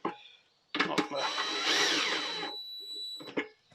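A power tool runs in a single burst of just under two seconds, driving bolts back into a Yamaha FZR 600 motorcycle, with short clunks of handling before and after.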